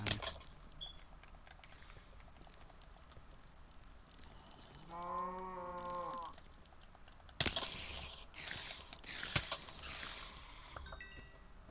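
A Minecraft cow lets out a single drawn-out, wavering moo in the middle of game sounds, loud and close. Other in-game noises follow, and there is some background chatter.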